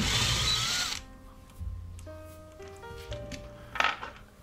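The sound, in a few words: driver removing Phillips head screws from starter in vise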